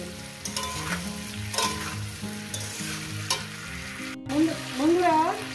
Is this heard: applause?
no